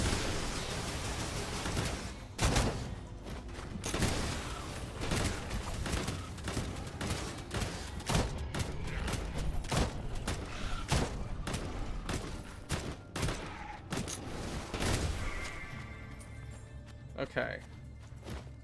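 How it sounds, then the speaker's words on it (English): Incendiary rounds fire in the action roguelike Shape of Dreams, a rapid series of sharp shots and crackling bursts with booming impacts over busy game noise, a voice talking underneath. "I just wasted my incendiary rounds."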